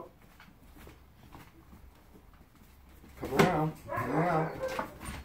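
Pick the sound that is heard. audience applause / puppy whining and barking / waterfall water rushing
puppy whining and barking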